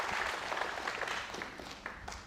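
Applause from a snooker crowd rewarding a break of 74, a moderate, steady patter of clapping that gradually eases off.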